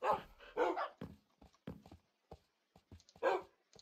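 Dog barking in Minecraft: several short, close, sharp barks and yips in uneven bursts, with quiet gaps between them.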